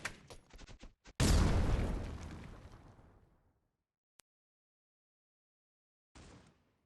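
A frag grenade in a video game goes off in a single loud, close blast that rolls away over about two seconds, preceded by quick clicks and followed by a short burst of noise.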